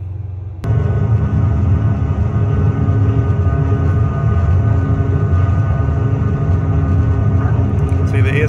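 Steady low rumble of an aircraft engine spooling up for takeoff in a flight simulator game, starting abruptly and holding loud and constant throughout.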